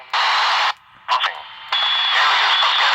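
A two-way radio on channel 3 buried in interference: loud bursts of static hiss cut in and out, with a short crackling break and then a steady hiss carrying a faint whining tone.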